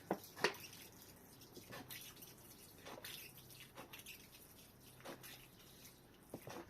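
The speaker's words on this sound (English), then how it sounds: "Similarly, I need to do the watering here." Watering allotment plants, with quiet intermittent splashes and drips of water landing on soil, spaced irregularly over several seconds against faint background hiss.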